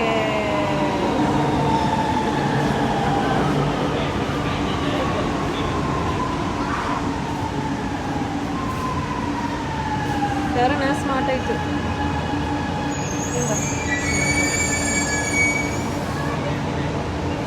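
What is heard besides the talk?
metro train arriving and wheels squealing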